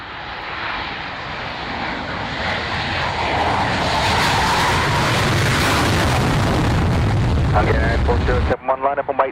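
Tornado jet with a specially painted tail, marking the Dam Busters 70th anniversary, taking off from runway 27: a loud, sustained engine roar building and holding, then cutting off abruptly into brief talk.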